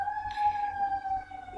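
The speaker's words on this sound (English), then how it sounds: "you have to excuse the sirens outside" A siren wails steadily in the distance in downtown Los Angeles, its tone sliding slightly, over a low rumble of city traffic.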